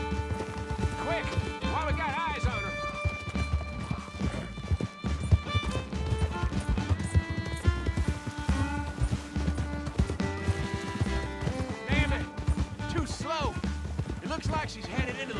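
Horse hooves clip-clopping at a gallop during a chase in Red Dead Redemption 2, a steady rhythmic pounding under a dense bed of orchestral game music and voices, with occasional whinnies.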